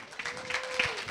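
Crowd applause at a freestyle rap battle, a steady wash of clapping with some cheering, fairly loud and continuous through the brief moment.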